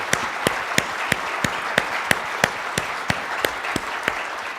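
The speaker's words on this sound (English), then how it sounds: "So a round of applause for them as well" Crowd applause during closing remarks at a healthcare conference, a steady bed of clapping with one sharp, regular clapper standing out close by.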